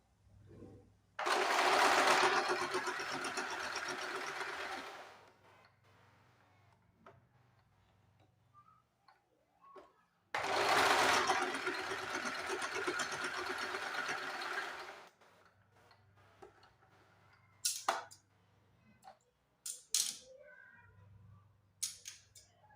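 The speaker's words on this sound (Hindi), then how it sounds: "एक यहाँ से सीधी सिलाई लगा देंगे" A sewing machine runs a straight stitch along fabric in two long, steady bursts of about four seconds each, separated by a quiet pause, with light handling clicks and taps afterward.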